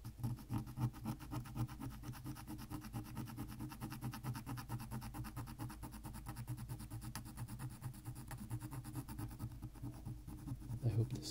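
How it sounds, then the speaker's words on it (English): A pencil scratches steadily across wood while a wooden clock is made, a close, soft, continuous dry rasp with a fine rhythmic grain running the whole length, quiet and unbroken. "Sound of this pencil"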